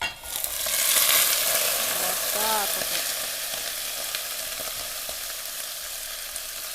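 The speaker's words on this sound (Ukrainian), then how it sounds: "наша каструлька сковорідка, як хочете, нагрілася, відправляємо сюди м'ясо." Loud, steady sizzling of meat for plov searing over high heat in a hot pan, crackling continuously up close, with a brief spoken word near the start.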